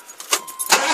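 A 1982 two-tone car's fuel-injected engine cranking with quick starter bursts, then catching and settling into a running rumble, close and loud with no talking.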